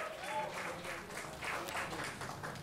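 An audience at an evening artists' discussion claps for a speaker, a soft, fairly steady patter of applause that rises and falls slightly, moderately distant and lasting a few seconds.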